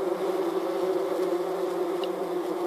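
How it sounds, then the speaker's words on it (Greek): A bumblebee buzzes close by outside a newly placed pollination hive, a steady droning hum that holds evenly throughout, with no talk. "Εδώ βλέπουμε ένα βομβίνο έξω από την κυψέλη."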